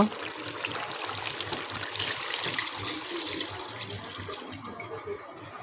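Liquid poured into a cooking pot of beef shank curry with potatoes, a steady soft splashing and trickling stream that is fairly quiet and close, with no talk.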